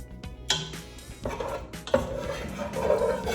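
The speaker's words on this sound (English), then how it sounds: "And now we're going to carefully add the pasta." Dry campanelle pasta poured into a metal pot, rattling and clattering in uneven bursts against the pan, close and fairly clear with faint kitchen background.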